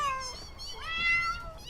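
Several cats meow in quick succession in the space logistics video game Space Tower Logistics, high rising and falling cries that overlap, fairly loud and close with no talk.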